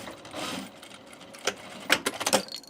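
A sewing machine stitches a thick open-weave fabric for a tunic, running in short bursts: a longer whir at first, then a pause and several quick, close mechanical runs.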